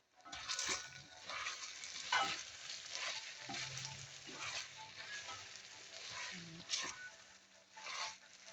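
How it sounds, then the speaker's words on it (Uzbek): Onions, potatoes and tomatoes fry in a pan with a steady, soft sizzle and occasional clinks of a spoon against the pan, a faint voice murmuring briefly. "piyozlarimiz o'lib, kartoshkalarimiz, tomatlarimiz hammasi yaxshi qovurilib bo'ldi"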